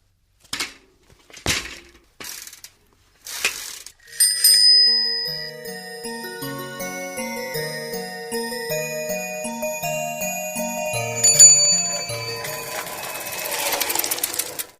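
A bicycle bell rings amid a cartoonish, musical clatter of bright metallic chimes and tinkling tones over a steady bed of plucked low notes, with a few sharp taps beforehand and no talk.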